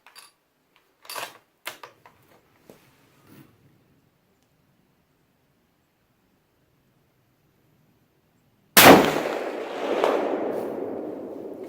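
A Ruger American 30-06 rifle fires a single loud, close gunshot with a sharp crack and a rolling outdoor echo, preceded by several faint handling clicks and rattles and a few quiet seconds.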